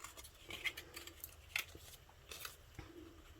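Scissors cut paper into angles for a handmade lip balm gift box, giving a few quiet, crisp snips spaced irregularly with no talk.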